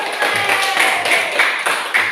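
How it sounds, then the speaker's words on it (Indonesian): A classroom of students clapping for the winning group, an uneven patter of many hands at moderate distance sustained throughout, with faint voices mixed in. "Tepuk tangan."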